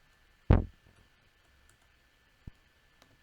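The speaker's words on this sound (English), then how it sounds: "So I click that once, it loads in," A single sharp, close mouse click selecting a synth preset in music software, followed after a pause by a couple of fainter clicks in an otherwise quiet room.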